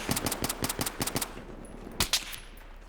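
Rapid gunfire in the shooter game Battlefield 3 pops in a quick run of evenly spaced shots, then two sharper reports after a pause, moderately loud and unaccompanied by talk.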